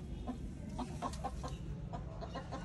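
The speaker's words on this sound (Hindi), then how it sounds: "कबूतरों के अंडे में से ना आवाजें आ रही हैं" Pigeon chicks still inside their eggs, trying to hatch, give faint, scattered peeps and chirps over a steady background hiss.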